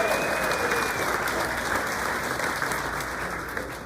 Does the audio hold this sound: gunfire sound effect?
no